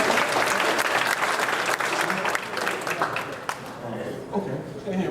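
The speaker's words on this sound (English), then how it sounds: "Give him a round of applause" An audience breaks into loud, close applause, a thick clatter of clapping that gradually loosens and thins, with voices and cheering mixed in underneath as it winds down.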